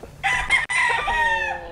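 A Tagalog game rooster crows once, loud and close, its harsh call broken by a brief gap partway through, with no voices over it.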